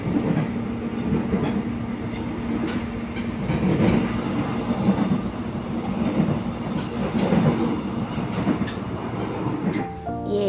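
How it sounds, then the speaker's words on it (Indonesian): Airport rail link train running from Manggarai toward Soekarno-Hatta airport, a steady loud rumble of wheels and car noise with a continuous low hum throughout, faint clicks and hiss above, no talk. "Naik kereta api."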